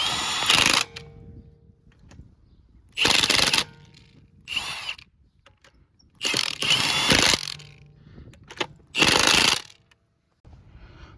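A Milwaukee power tool tightening wheel nuts on a Toyota RAV4 during a brake job, heard as five loud, close ratcheting bursts of about half a second to a second each, separated by short quiet gaps.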